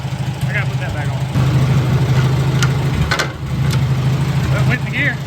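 A Farmall Super A tractor engine running just after starting, a steady low idle rumble that holds loud and close throughout, with a brief dip near the middle.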